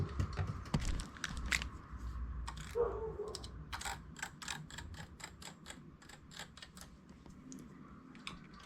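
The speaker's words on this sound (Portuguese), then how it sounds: "com a agulha de olho duplo, eu vou passar pontos da frontura para a máquina e da máquina para a frontura" A double-eye transfer needle moves stitches between the ribber and the bed of a domestic knitting machine, giving a string of small metallic clicks and ticks, close and quiet, with faint clatter of the needles.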